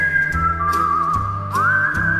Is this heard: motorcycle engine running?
no